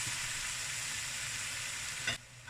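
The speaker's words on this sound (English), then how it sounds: "Now we're just going to be adding our cut up tomatoes," Cut tomatoes go into a pan of frying vegetables, which gives a steady, fairly quiet sizzle that ends with a brief clatter, and the frying sound then falls away.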